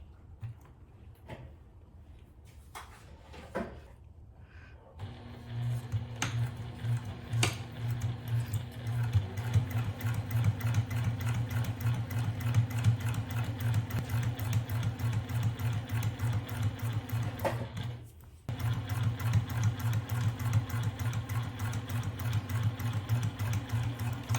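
A sewing machine stitching the seam of a zipper pouch: a quiet rustle of fabric first, then a steady, rapid mechanical whir. The hum halts briefly once near the end and starts again.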